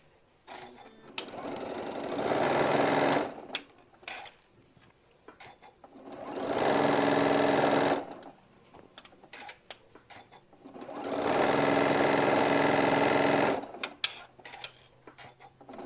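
A sewing machine sews a hobo bag seam in three separate bursts of steady whirring, each a few seconds long, with quiet fabric handling and small clicks in the gaps.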